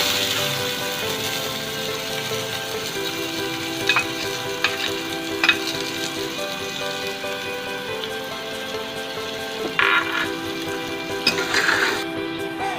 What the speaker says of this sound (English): Now I am adding fresh onions